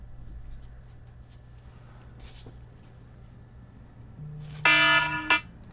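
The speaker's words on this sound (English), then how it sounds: "That's the alarm to let me know it's time to wake Mom up" A wake-up alarm beeps indoors near the end, a short loud electronic tone burst over faint background noise and a low steady hum.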